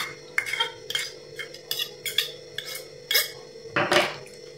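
Spices and ginger-garlic paste mixed into a marinade by hand in a metal bowl, giving close, irregular squelching and clinking scrapes in short bursts, with no talking.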